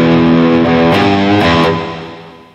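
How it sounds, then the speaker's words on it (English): Loud overdriven electric guitar chords through a Tube Screamer-style overdrive on a Headrush MX5, ring out with a warm, gritty distortion, struck a few times and left to sustain and fade. "Let's add a tube screamer. So we're going to go to our distortion"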